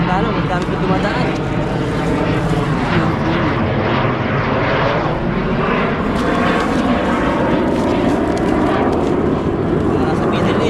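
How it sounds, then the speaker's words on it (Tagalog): Loud, continuous roar of airplanes passing overhead while people are out fishing, a broad engine drone swelling and shifting throughout with voices talking over it. "Grabe yung mga aeroplano to."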